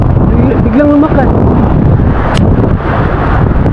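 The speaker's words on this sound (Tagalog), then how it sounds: "Oh, lumakas na yung hangin." Strong wind buffets the microphone at a fishing spot, a loud, steady roar filling the whole clip, with brief speech heard under the gusts.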